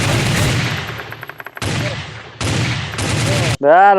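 Gunfire in a comedy film scene: dense bursts of rapid shots fill most of the clip, broken by brief gaps, ending with a short musical or tonal sting.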